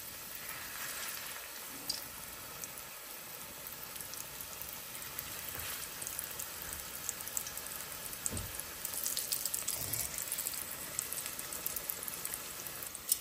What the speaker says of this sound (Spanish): Voy a agregar aquí los taquitos en el aceite, ya lo tengo caliente.